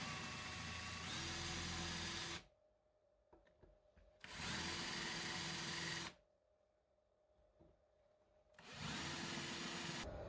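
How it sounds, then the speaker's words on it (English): An old electric drill from around 1976, fitted with a small bit, runs in three loud bursts of whirring with quiet pauses between, during a mini milling machine build. "So I now started to drill,"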